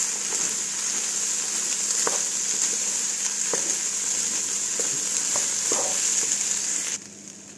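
Sautéed rice with vermicelli sizzles steadily in a hot pan with faint scraping ticks of stirring, the hiss then dropping away abruptly near the end as hot water is poured in; no talking.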